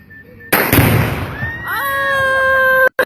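A gender reveal charge goes off with a sudden loud outdoor blast and a rushing burst of debris, followed by a long sustained whistle-like tone and voices reacting.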